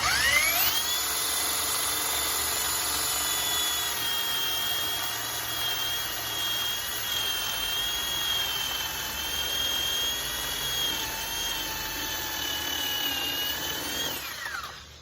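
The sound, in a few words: drilling a hole in wood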